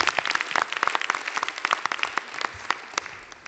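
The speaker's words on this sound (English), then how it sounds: "Her own special round of applause." Applause from a panel discussion audience, dense overlapping claps at moderate level that thin out and fade toward the end.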